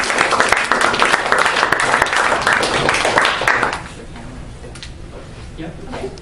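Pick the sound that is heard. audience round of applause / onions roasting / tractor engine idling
audience round of applause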